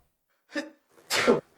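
A single sneeze: a short intake of breath, a brief pause, then a loud, explosive burst of air, close by, with no talking.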